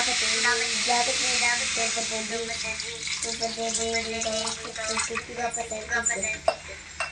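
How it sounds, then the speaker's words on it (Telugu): Water poured into a hot pan of chicken for a chicken fry, giving a loud hiss of steam and rushing liquid, with a voice talking over it. "ఇప్పుడైతే మనం 1 గ్లాస్ ఆఫ్ వాటర్ అయితే వేసి మనం చికెన్ని బాయిల్ చేసుకోవాలి"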